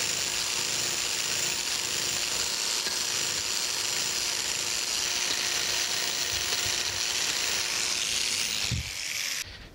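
A power scraper works a crosshatch pass at about 45 degrees across the cast-iron dovetails of a metal planer's clapper box cross slide, giving a steady close buzzing rasp that runs almost unbroken before stopping near the end.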